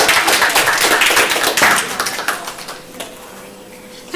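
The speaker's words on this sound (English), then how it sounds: "Give them a round of applause, folks." A small group of listeners claps for two people called up to the front. Brisk, scattered hand claps fill the opening seconds, then thin out and fade to near quiet.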